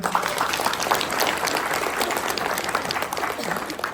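Audience clapping at a business plan presentation, a dense continuous burst of many hands at moderate distance, steady for the whole stretch with a faint murmur underneath.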